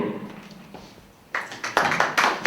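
Applause breaks out for the first director at an exhibition opening for a sports and recreation centre in Solec Kujawski: a few scattered claps at first, then louder bursts of clapping in the final second.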